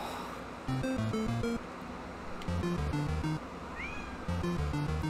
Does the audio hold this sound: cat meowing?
yes